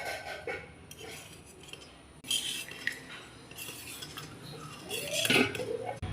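Utensils clink and scrape against a bowl as yogurt is spooned in, with scattered metallic taps that grow busier and louder toward the end, nearby and without voices.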